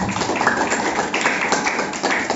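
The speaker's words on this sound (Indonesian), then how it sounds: "Bisa kasih tepuk tangan Tuhan." A church congregation at a Sunday worship service in Surabaya breaks into steady, dense clapping, a continuous close patter of many hands with no pauses.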